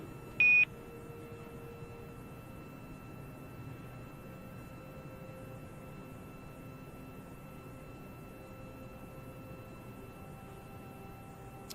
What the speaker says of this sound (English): what we heard was those beeps are Quindar tones